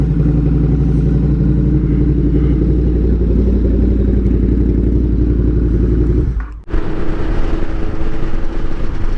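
A motorcycle engine runs steadily and close by during a test drive, with a constant low rumble that cuts out for a moment near the end and then resumes.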